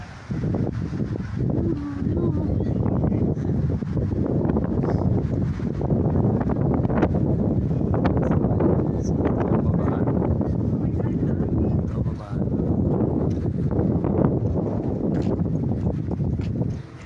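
Steady, loud wind buffeting the microphone throughout on a big mountain near Davao, Philippines, during a bike tour, a broad low rumble with gusty swells and no clear pauses.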